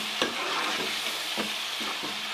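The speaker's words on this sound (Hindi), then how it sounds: "3 खाने के चम्मच मैं यहाँ दही शामिल करूँगी, ठीक है। और इसको मिक्स करेंगे" Chicken fries in a pan as yogurt is stirred in, a steady sizzle broken by a few rhythmic scraping strokes of the spoon, no talking.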